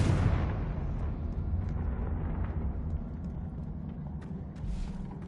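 A Confringo blasting spell explodes in the Hogwarts Legacy video game: a loud initial burst followed by a sustained deep, rumbling roar that slowly decays over several seconds, alone without speech.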